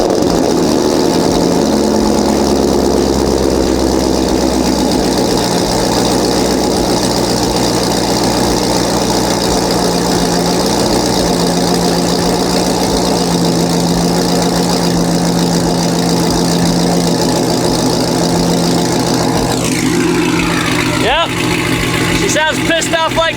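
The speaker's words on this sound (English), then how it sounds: "I know y'all guys want a cold start." A Chevrolet Corvette C6 V8 cold-starts and settles into a steady, loud idle that runs throughout, with a sharp disturbance near the end.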